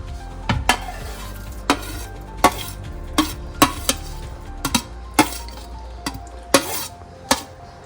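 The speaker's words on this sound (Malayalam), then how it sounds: "ഇനിയിപ്പം നമുക്ക് കപ്പയും കൂടെ മിക്സ് ചെയ്യാം" A metal spoon clanks repeatedly against a pan as roasted coconut is stirred into tapioca biryani, about a dozen sharp knocks in an uneven rhythm over a soft background sizzle.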